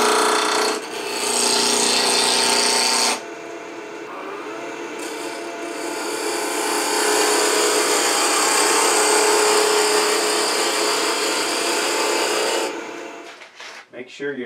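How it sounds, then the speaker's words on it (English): A wood block for a salt shaker spins between centers on a lathe as a tool roughs it round, a loud continuous scraping and rasping that shifts in tone, drops briefly and swells again before tapering off. "I mount the block between centers and rough it out, rough it around."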